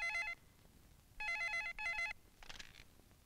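An office telephone rings in bursts, two loud electronic trills separated by a pause, followed by a softer clatter as the handset is handled, with no voices.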